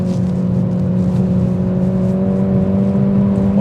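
Close, steady engine drone from a Peugeot 208 GTI under acceleration, a loud humming tone that holds almost level and rises only slightly, with no talk.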